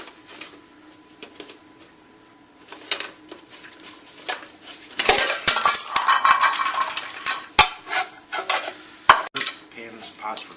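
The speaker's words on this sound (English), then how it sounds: "Pots for cooking" Metal pots from a camping cook kit clatter and clink as they are handled, starting with light taps, then a busier stretch of scraping, rattling and sharp knocks, close and fairly loud.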